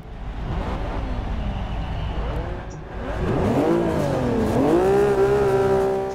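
Infiniti Q60 engine in the Forza racing video game, a steady loud drone that rises and falls in pitch as the car revs and accelerates, with no talking over it.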